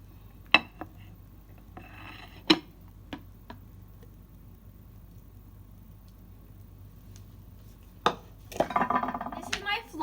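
A homemade flan in its baking dish is turned out onto a platter, with a few sharp clinks and taps of dishware and a louder cluster of clattering near the end, against quiet background.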